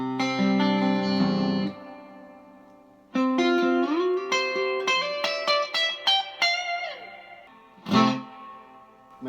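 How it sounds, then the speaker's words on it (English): Distorted electric guitar chords and single notes through a Vox AC15 amp with reverb turned all the way up ring out with a heavy reverb wash, tails lingering long after each strum before a final bright strike. "And this is reverb all the way up."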